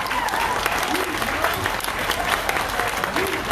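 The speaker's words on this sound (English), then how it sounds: "Give her one more hand of applause, you guys." Audience applause at a Black Lives Matter gathering in Gresham, with steady dense clapping and cheering voices mixed through it, fairly loud and continuous throughout.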